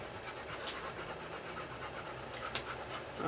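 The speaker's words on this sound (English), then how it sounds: "Oh, my dog is stressing out. I don't know if you can hear her all panting behind me" A dog pants softly and steadily, breathy rhythmic huffs close by, with a faint low hum in the background.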